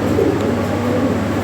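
Pigeons offered for sale coo softly and steadily in a loft, a low murmuring call running throughout with no talk over it.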